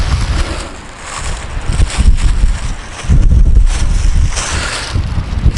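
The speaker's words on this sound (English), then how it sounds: "it's a little windy today, so hope the mic's working out all right" Strong wind buffets a microphone outdoors beside a Piper Cherokee being painted, a loud, continuous rumbling roar that surges and eases in gusts.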